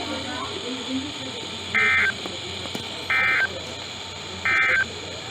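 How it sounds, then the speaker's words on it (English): Three identical electronic alarm tone bursts from a NOAA weather radio warning device test, broadcast on station WXK-81 in Onondaga, each lasting about a third of a second and evenly spaced over steady broadcast hiss. "This concludes the test of the NOAA weather radio warning alarm device."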